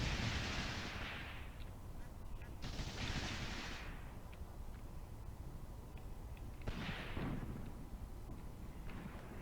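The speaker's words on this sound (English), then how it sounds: "I will wait for the rest of the artillery to fall" Artillery shells landing in the Graviteam Tactics war game, with three loud, broad blasts spaced several seconds apart over a low rumbling battlefield background.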